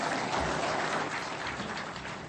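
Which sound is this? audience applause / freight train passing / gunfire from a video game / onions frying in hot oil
audience applause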